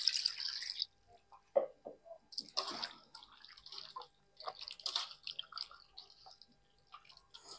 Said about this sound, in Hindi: तो इस तरह इसको अच्छा से धोना चाहिए।